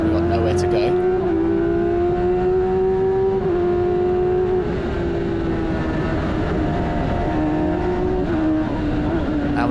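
F1000 race car on board at Brands Hatch, a loud, continuous high-pitched engine scream holding on the throttle down the main straight, with brief dips at gear changes and the driver talking underneath.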